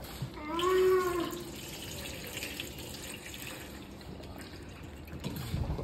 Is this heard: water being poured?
yes